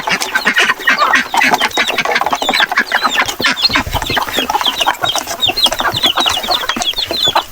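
Native chickens in a small farm coop cluck and chatter continuously at close range, with repeated short calls layered over one another and a few louder squawks.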